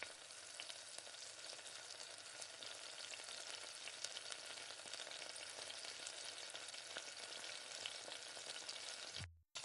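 Cumin and fennel seeds spluttering in hot oil, a dense continuous crackling sizzle close up with sharp pops scattered through, cutting off abruptly near the end.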